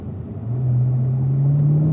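A car engine accelerates out of a corner on a race course, its rising drone swelling from low to a steady loud climb, close and without speech.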